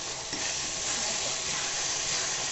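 Curd is stirred into mushroom biriyani in a hot pan, giving a continuous close sizzle and hiss with soft scraping of the mixing, steady throughout and free of talk.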